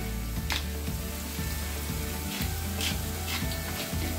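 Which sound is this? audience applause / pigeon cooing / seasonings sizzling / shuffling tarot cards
seasonings sizzling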